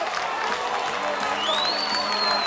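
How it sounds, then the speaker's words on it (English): A minor league baseball crowd stirred up after an ejection in the sixth inning, steady roar of voices and scattered cheering throughout, with a thin rising whistle-like tone partway through. "Mark Mason, at the very least, he has riled up this crowd"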